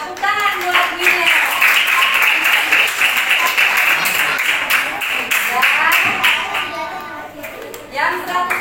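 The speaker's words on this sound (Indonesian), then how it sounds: "Tepuk tangan buat Gwyneth" A classroom of young children claps for their classmate Gwyneth at a second-grade report card ceremony, a loud, busy burst of small hands that carries on steadily with children's voices chattering over it.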